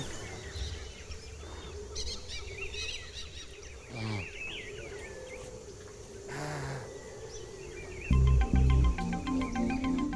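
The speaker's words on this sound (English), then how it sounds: "You can hear the dolphins rising and blowing, and the birds are just everywhere." Birds in the Amazon jungle chirp and whistle in scattered calls from several directions, moderately faint over a constant hum of insects and background noise, with a louder low burst near the end.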